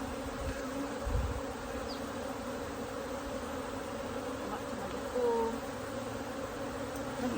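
Honeybees hum in a steady, continuous drone around the hive, fairly quiet and unbroken throughout.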